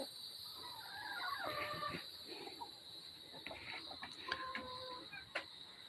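Chickens cluck around a rural yard shared with cats, with scattered short clucks and squawks at mid distance, some closer and sharper, over a faint steady background hum.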